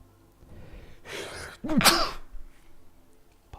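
A single sharp human sneeze bursts out close by, preceded by a brief breathy intake, with quiet room tone before and after and no talking.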